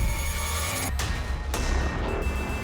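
A new mobile phone rings loudly and close by, its ringtone tones repeating over about three seconds with no one talking.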